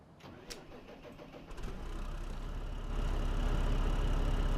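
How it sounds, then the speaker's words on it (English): A tractor engine in Farming Simulator 15 cranks over with a few clicks, then catches and settles into a steady mid-pitched idle that grows louder and rougher, heard alone without talk. "there's the nice little engine note"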